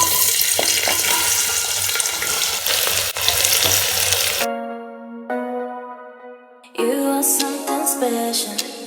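Three chopped onions dropped into hot oil in a pressure cooker set off a loud, dense frying sizzle that fades out midway, giving way to music.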